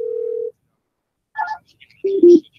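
A single steady electronic tone sounds, followed by brief bursts of higher tones, like phone keypad beeps, in an otherwise quiet space.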